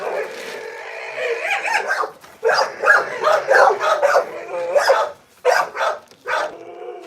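A small dog vocalizes in a run of whiny, yipping little barks and soft growl-like grumbles, close and fairly loud, coming in short bursts with brief pauses between them.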